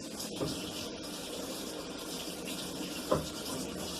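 A MADEMSA washing machine drawing in water, a steady close hiss of flow with a brief thump or splash partway through.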